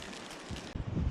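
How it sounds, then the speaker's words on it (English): Wind gusts buffet a rain-soaked wilderness camp on Fire Island, a steady broadband rush that suddenly surges louder with heavy low rumbling buffeting on the microphone, no voices. "Definitely getting some wind gusts"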